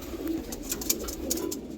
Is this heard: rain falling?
no